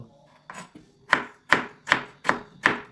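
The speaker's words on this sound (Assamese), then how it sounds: "পিঁয়াজৰ কণ্ড সৰু সৰু চাইজত কাটি ল'ব।" Onion chopped into small pieces for an Assamese duck curry with ash gourd, with six sharp knife strikes on a board, close and clear, coming at a steady, slightly quickening rhythm.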